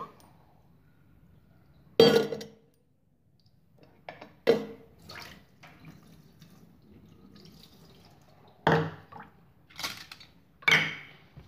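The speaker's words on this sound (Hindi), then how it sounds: "मसूर की दाल को देखिए पहले पानी डाल के धो लीजिए।" Red lentils (masoor dal) being washed in water, with several separate sloshing, splashing bursts and faint clinks against a vessel between quiet pauses.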